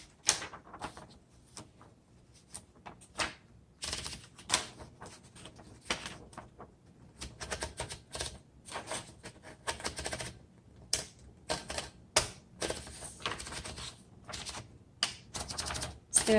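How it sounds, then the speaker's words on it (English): Mechanical typewriter clatter from a 1941 Corona Sterling: a platen knob ratchets and paper feeds, then keys strike in uneven bursts with occasional louder carriage clunks, close-up and intermittent. "let's go ahead and load a piece of paper and do some typing."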